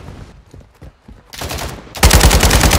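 Sniper and automatic gunfire in a war film scene, starting with scattered distant cracks, then swelling into a loud, dense burst of rapid shots at the end.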